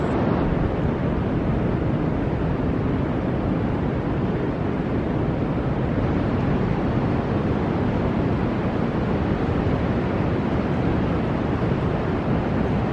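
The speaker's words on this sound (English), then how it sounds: "when those waves come crashing in, you can actually hear them going underneath." Ocean waves crashing into sea caves at Chapel Porth, Cornwall, a loud continuous roar of surf and rumbling water with wind buffeting the microphone.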